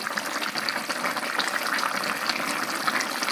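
Spinach, potatoes and rui fish bubble in a pot, a continuous watery burble and hiss with soft gurgles throughout, close and fairly loud, no voices.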